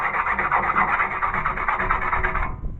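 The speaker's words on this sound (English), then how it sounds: "you can take a piece of concrete, piece of sandpaper, or a rough surface like the table, and you can kind of smooth it out" The rough bottom of a homemade pocket shooter is rubbed hard against a table surface to smooth it, making a continuous close scraping rasp with a quick back-and-forth rhythm for a few seconds before it stops.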